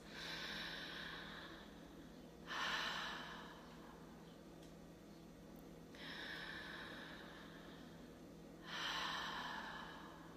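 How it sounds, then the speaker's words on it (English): Slow, deep breaths during a guided meditation exercise: two full cycles of long audible inhale and exhale, close to the microphone, over a low steady hum and no speech. "big, deep breathing can let go of so much stuff"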